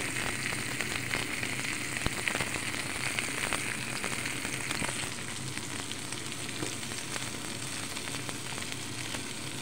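Onions frying in a pan for a homemade burger, a steady, fairly loud sizzle and crackle that runs without a break, with a faint tap partway through.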